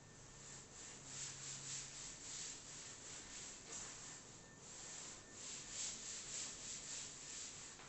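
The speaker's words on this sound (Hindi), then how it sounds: "मैं इसको रब कर रहा हूँ।" An eraser rubs out pencil lines on an engineering drawing sheet, a faint, close, continuous scratchy rubbing in quick back-and-forth strokes with no talk.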